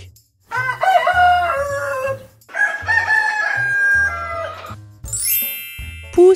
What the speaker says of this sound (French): Coq.